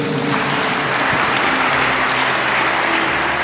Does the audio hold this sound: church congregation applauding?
yes